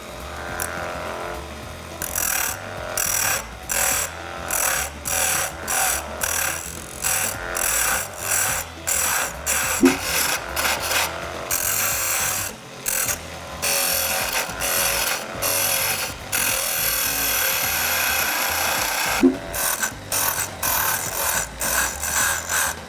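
A power tool shaping a wooden cylinder into a model rocket, working in repeated bursts of grinding and rubbing with short pauses between passes, fairly close and steady.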